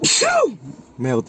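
One sharp, close human sneeze bursts out, followed a moment later by a quick spoken exclamation from the same voice.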